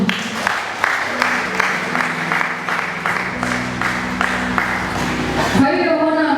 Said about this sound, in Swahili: Mpige Yesu makofi.